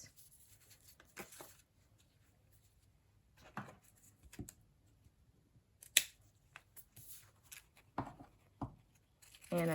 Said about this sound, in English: I'm just going to snip right across.